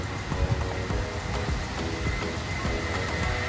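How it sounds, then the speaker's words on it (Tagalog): Heavy rain falls steadily at a temple complex in Bangkok, a dense continuous hiss with scattered patters and drips, and a faint low rumble beneath. "ang lakas ng ulan"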